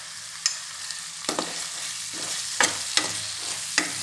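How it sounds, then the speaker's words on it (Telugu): Tomatoes frying in a pan for Chettinad chicken masala, a low steady sizzle broken by a handful of sharp scrapes and taps as the mixture is stirred, close by and with no talking. "టమాటా వేగిపోయింది బాగా."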